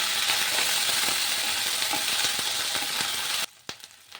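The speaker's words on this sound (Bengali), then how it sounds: "এবার আদা রসুনের বাটা দিয়ে আরও কিছুক্ষণ কষিয়ে নেব।" Onions and ginger-garlic paste fry in a pan for a mutton liver curry, giving a loud, steady sizzle for about three and a half seconds before it suddenly drops to a few faint stirring clicks.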